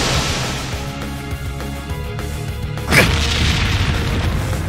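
A blast burst from the Azure Wings attack in Trails of Cold Steel III rings out around the three-second mark, a loud boom over steady game music and effects.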